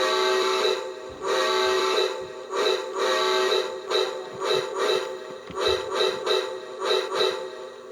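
A LionChief Polar Express toy train whistle blows in a series of repeated toots, some long and some short, fairly loud and close, with no voices over it.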